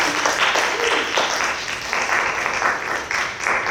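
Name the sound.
audience applause for poetry readers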